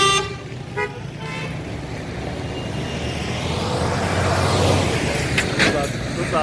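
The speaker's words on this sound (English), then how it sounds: "Those are trucks taking tourists to national parks." Safari trucks carrying tourists drive past on a town road in Tanzania, a continuous loud engine roar that swells as they go by, with a short horn toot near the start.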